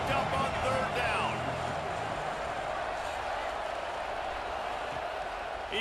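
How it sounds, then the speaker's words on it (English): A simulated stadium crowd in the Gridiron2033 football video game roars steadily for the defense on third down, a dense, sustained wash of cheering under an announcer's commentary. "Crowd getting this defense whipped up on 3rd down."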